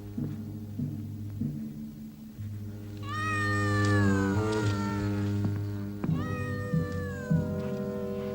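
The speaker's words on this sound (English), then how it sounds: "Mrs. Duncan's cat." A cat meows repeatedly in a 1982 horror film, drawn-out wailing cries rising and falling over a low hum, close and clear, with shorter calls near the end.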